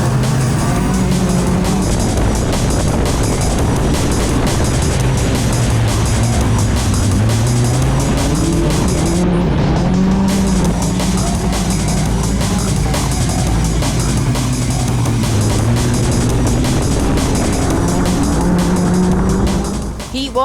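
Formula race cars in a British championship heat, with a constant loud engine whine that rises and falls through gear changes. Tire squeal comes through over a dense, unbroken roar.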